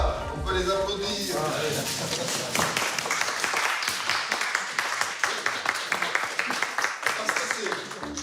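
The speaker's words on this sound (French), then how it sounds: "Voilà, on peut les applaudir." An audience applauds police officers at a town hall reception in Toulouse, sustained clapping over a murmur of voices, with talk underneath at the start.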